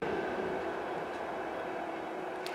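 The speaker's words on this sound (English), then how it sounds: "Bloody trains always at the wrong time." A train passes at a distance in a steady, muffled rumble of wheels and carriages, a continuous low roar with no other sounds.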